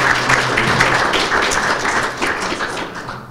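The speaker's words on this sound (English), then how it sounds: "round of applause for what they're doing as a group" A short burst of applause at an award presentation, a dense patter of clapping hands from a small group, fairly loud and close, tapering slightly at the end.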